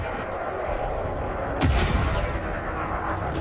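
Overcharged cannons on a ship in a space combat video game fire one heavy booming blast mid-clip, cutting through a dense, noisy rumble of engine and battle sound.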